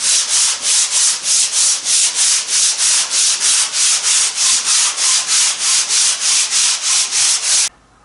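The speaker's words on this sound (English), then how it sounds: "maybe a little bit of a sanding block on there just to clean up" Rhythmic back-and-forth strokes of a sanding block rubbing a wooden boat's planking at a scarf joint, about two dozen steady hissing passes, close and loud, then stopping.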